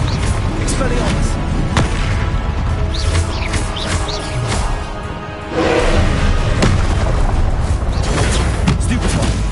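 Spell blasts from a Harry Potter video game, among them the Confringo explosion spell, boom and thump loudly over dense game noise, with a voice talking over the fighting.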